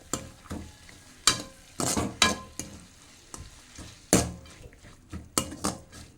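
Greens being stirred as they cook in a pan for keerai poriyal: irregular clattering scrapes of a utensil against the pan over a soft sizzle, close and fairly quiet, with no talk.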